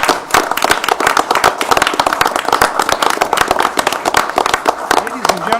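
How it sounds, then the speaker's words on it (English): A city council meeting audience claps for visiting students, a dense, loud round of applause from many hands filling the room steadily throughout. "I think we should all give them a round of applause."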